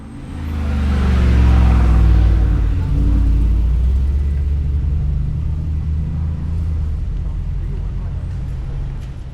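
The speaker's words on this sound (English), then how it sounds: "there are a lot of expensive cars passing by" Expensive cars pass along a busy street in Apgujeong Rodeo, Seoul, on a Friday night, their engines a loud, steady low rumble that swells in the first seconds and then holds on, with faint voices in the background.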